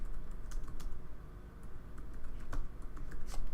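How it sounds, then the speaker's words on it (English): Quick bursts of typing on a computer keyboard, close and moderately quiet, with irregular clusters of key clicks and brief pauses between them, no voices. "so I'll type a couple things"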